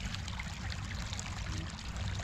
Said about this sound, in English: Here's a stream empties into the river here.